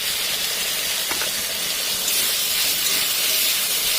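Pre-fried potatoes go into a hot pan of oil for a rohu fish curry, giving a loud, steady sizzling hiss that fills the whole stretch, with a faint clink early on.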